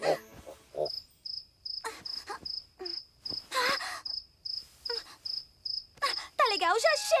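A cartoon cricket chirping indoors at night, short bright pulses repeating in a steady rhythm, fairly loud and close, with a character's voice groaning and talking between and over the chirps.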